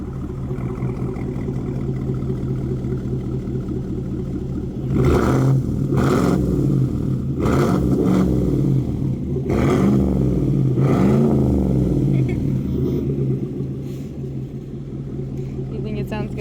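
A 2019 GMC Sierra with the 5.3 engine and an AWE 0FG exhaust idles with a deep rumble, then revs several times in loud, swelling bursts at close range, with people talking over it.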